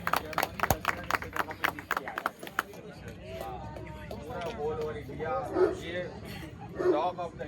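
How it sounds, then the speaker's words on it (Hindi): A crowd at a dog show in Korba claps in a short burst of sharp, scattered claps that quickly gives way to someone talking over the room. "उसके लिए जोरदार तालियां हो जाए सभी कोरबावासी।"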